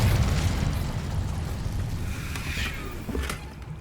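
Incendio fire spell from the Hogwarts Legacy video game: a whooshing burst of flame opens loud, then settles into a rumbling, crackling roar with a couple of sharper pops near the end.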